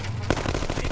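Gunfire in the No One Lives Forever 2 video game during a vehicle chase, a sharp shot followed by a quick rattle of further reports over a rumbling engine-like background, all within under a second.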